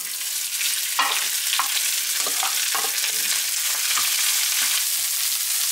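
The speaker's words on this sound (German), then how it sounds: "Jetzt kippen wir den Reis hier rein." Rice stir-fried in sesame oil in a hot pan sizzles loudly and steadily, with scraping and stirring strokes breaking through the hiss, no talk.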